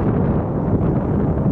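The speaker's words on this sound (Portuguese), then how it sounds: "Aqui tá ventoso também." Strong wind at a reservoir during a cold-weather fishing trip, buffeting the microphone as a loud, continuous low rumble with no break and no talk.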